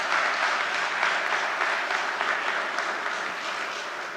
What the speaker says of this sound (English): he deserves a round of applause for that ministry